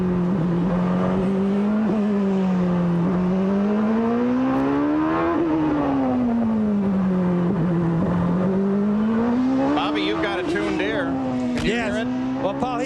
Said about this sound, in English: Let's listen to Nigel's engine now as he approaches the Toyota turn